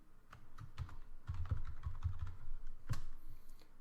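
A computer keyboard tapped in quick, uneven keystrokes while a short password is entered during a Linux server install, close and clear with no voice over it.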